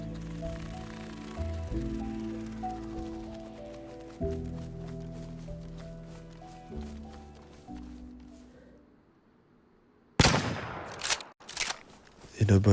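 Gunfire in the survival game DayZ: a faint, steady run of rapid shots under a droning tone for most of the stretch, then a louder burst of sharp cracks near the end.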